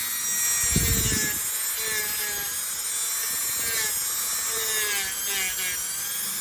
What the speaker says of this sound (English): why do you use, this Dremel?